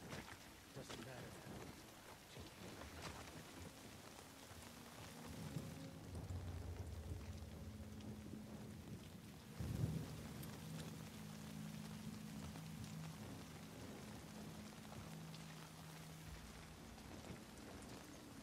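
Steady rain patters in the background with a low rumble of thunder rolling through the middle, fairly quiet overall, in the video game The Last of Us Part II.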